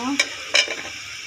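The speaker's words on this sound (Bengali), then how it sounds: "এখন পেঁয়াজটা লাল করে আমি ভেজে নেব" Chopped onions frying in hot oil with whole spices, a steady sizzle broken by two sharp bursts as the pan is stirred, close and alone.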